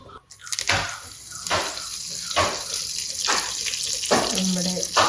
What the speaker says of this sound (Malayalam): കടുക് പൊട്ടട്ടെ.